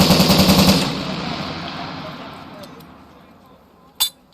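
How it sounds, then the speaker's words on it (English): Machine guns fire controlled bursts of three to five rounds during Marine infantry training, opening with a loud, rapid string of shots whose sound decays into a long echo, and ending with a single sharp report. "they're machine guns, but they're not going full auto. You do controlled bursts, 3 to 5 rounds"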